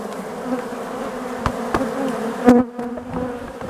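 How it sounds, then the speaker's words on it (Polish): Steady droning buzz of many agitated honeybees close by at a hive, continuous throughout with a few brief louder passes near the listener. "pszczoły są złe"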